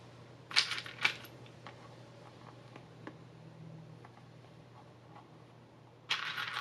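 Plastic safety eye backs clicked onto a crocheted amigurumi bee, giving a few sharp, close clicks early on and another burst at the end against a quiet background.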